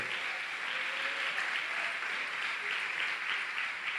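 A congregation at a church seminar claps in praise of the Lord, a steady, moderately distant wash of applause that continues evenly throughout.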